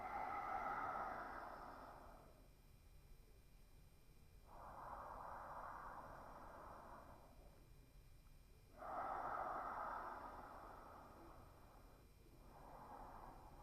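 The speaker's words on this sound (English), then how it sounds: "Breathing in deeply through your nose." Slow, deep yoga breaths drawn in and pushed out through the nose, alternating in long airy swells of a few seconds each, close and fairly soft with no talking.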